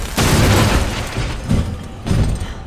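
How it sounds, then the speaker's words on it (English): Explosions in the Resident Evil 2 video game, three loud, close, booming blasts spaced about a second apart, each with a rumbling tail. "Explode on him!"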